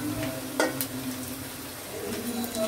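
Vegetables such as grated radish and carrot fry with a steady sizzle in a pan, stirred with a few sharp utensil scrapes and taps on the metal, close and continuous with no talking.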